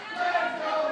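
A wrestling crowd cheers and roars for Madi Wrenkowski at a Mission Pro Wrestling women's match, a steady sustained wash of voices in a hall, moderately loud.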